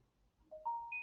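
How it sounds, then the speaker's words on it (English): A phone sounds a short rising electronic notification chime, three clean tones stepping upward in under a second, close and clear with no talking. "My phone is going crazy."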